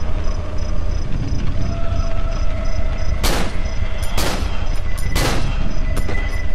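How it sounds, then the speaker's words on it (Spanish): Three sharp gunshots in the horror video game Cry of Fear ring out about a second apart over a constant loud low rumble of background noise, with no voices. "Tres disparos, suficiente."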